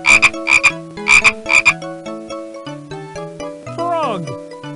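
Cartoonish frog croaks from the children's PC game Muppet Babies: Animals in Nature come in short repeated bursts over bright game music, ending with a sliding tone.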